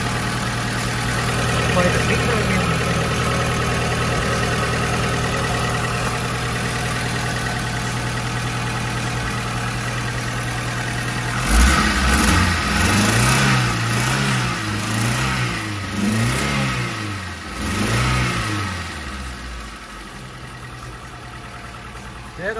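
A 2006 Suzuki APV van engine is started about halfway through, then idles with several rhythmic revving surges. Before it starts there is a steady background hum, and someone talks throughout.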